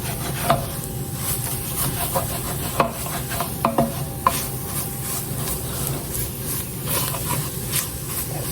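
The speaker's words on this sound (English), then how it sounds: "I'm going to scrape those up because I don't want to lose that extra flavor component that's down there." A wooden spoon scrapes and stirs the bottom of a pot of broccoli cauliflower cheese soup, close rhythmic rubbing strokes with a few sharper knocks over a soft simmering sizzle.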